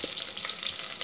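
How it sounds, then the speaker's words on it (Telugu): Chopped onions and green chillies go into a hot tempering of curry leaves for sambar, producing a continuous close, bright sizzle of frying with light stirring, no voices. "ఇప్పుడు ఈ తాలింపులో ఈ కట్ చేసి పెట్టుకున్న ఉల్లిపాయలు,"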